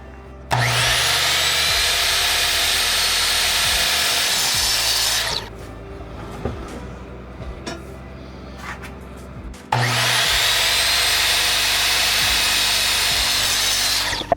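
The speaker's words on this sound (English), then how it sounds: "We're gonna do it on the miter saw just by sort of eyeballing the corners and picking it up." A miter saw cuts wood for a custom console on a Boston Whaler 13 restoration, two loud whining cuts of about five seconds each separated by a quieter pause with light knocks.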